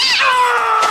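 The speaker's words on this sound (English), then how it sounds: "It was just a cat." A cat gives a single drawn-out meow, loud and close, in a false-scare moment from a Japanese horror film.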